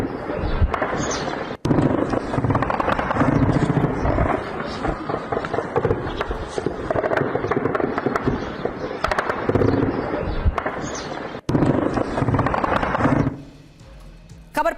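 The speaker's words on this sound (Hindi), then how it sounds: "पाक सैनिकों ने कैसे कोबरा हेलीकॉप्टर से फायरिंग की" A Pakistani army Cobra attack helicopter fires on TTP fighters in the Khadi area. Dense, loud crackling bursts and rattling shots run almost continuously for over ten seconds with brief breaks, mixed with voices, before fading near the end.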